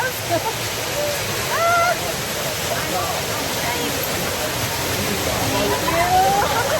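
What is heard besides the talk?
waterfalls splashing over a lazy river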